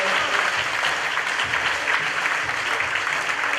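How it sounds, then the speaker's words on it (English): A steady round of applause fills a room at a local community gathering, dense and loud throughout with a faint crowd murmur underneath. "Can we get a round of applause for inspired?"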